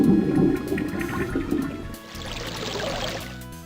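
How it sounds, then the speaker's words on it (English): A toilet chain is pulled and the toilet flushes in the point-and-click adventure game Legend of Kyrandia 2: a low, loud water rush that gives way to a hissing, bubbling refill and then a gurgling swirl, alone without voices. "If you mess up, however, you'll need to pull the chain and flush it."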